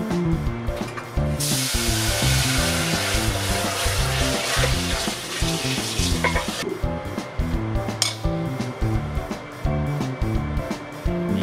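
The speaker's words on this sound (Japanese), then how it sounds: "熱いまま冷たい水で洗ってください" A hot polymer-coated pan hit with cold running water bursts into a loud hissing sizzle that lasts several seconds and then fades, with clinks of the pan and steady background music throughout.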